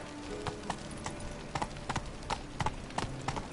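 Roach the horse from The Witcher walks with steady clip-clopping hooves, a fairly faint and regular rhythm of hoof strikes heard on their own with no talking.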